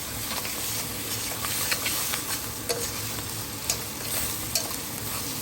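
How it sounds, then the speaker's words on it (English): Tomatoes and pre-cooked crabs sauté in a pan, giving a constant close sizzle and steamy hiss broken by soft scraping clicks as they are stirred. "It's time to saute them and add our pre-cooked crabs."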